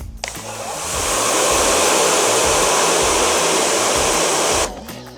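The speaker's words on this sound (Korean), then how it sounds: "지금 이 이고파워 고압 세척기 같은 경우 이쪽에 물을 분사했을 때 이 정도로 물이 퍼졌잖아요" Ego Power pressure washer blasting water in a steady, loud, broadband hiss that starts abruptly, holds for about four seconds alone, then cuts off.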